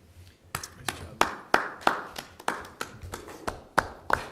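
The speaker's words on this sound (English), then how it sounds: "That's kind of pathetic applause for you." Sparse, weak applause at a town select board meeting: a dozen or so scattered, uneven hand claps from a small group, moderately close in a quiet room, with no talking.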